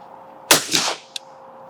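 A single shotgun blast at a clay target cracks out sharply and close, followed by a brief echoing tail and a small click afterward.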